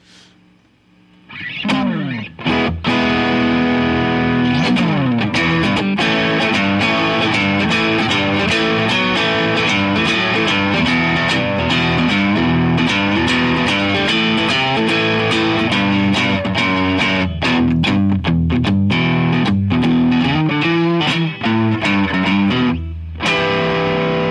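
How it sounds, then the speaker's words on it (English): Overdriven, fuzzy electric guitar on the neck pickup plays loud chunky riffs and chords with a warm, thick tone, continuing steadily for a long stretch. "that overdriven or even fuzzed out neck pickup sound just drew me in pretty early on"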